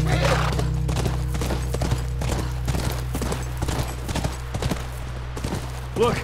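Horse hooves in the video game The Last of Us: a steady clip-clop under a constant low hum, with the footfalls repeating evenly throughout.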